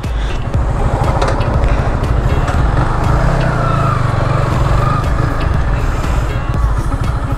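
A Yamaha MT-15 motorcycle engine runs close by, a loud, steady buzzing drone with a rapid pulsing beat that holds throughout.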